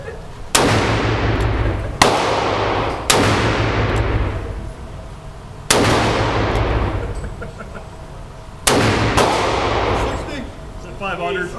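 Five heavy gunshots from a .500 Magnum revolver, fired at uneven intervals, each a loud sharp blast with a long booming tail, close and alone.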